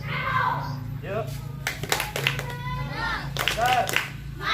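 Children in a school class clap their hands in quick bursts of sharp, close claps, mixed with a teacher's voice and the children speaking.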